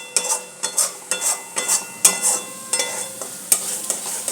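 Spices for spinach paste frying in a pan while being stirred, with rhythmic scraping strokes and clinks of utensil on metal over a continuous sizzle, close and with no talking.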